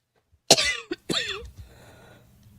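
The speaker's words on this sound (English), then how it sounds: "Pardon my coughing." Two sharp coughs close up, the first with a short follow-up catch, then quiet breathing in an indoor room.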